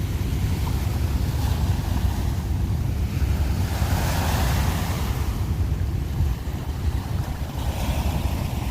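Strong wind gusts across a seaside nature park, roaring steadily into the microphone alongside rolling surf, loud and constant throughout with a slight dip near the end.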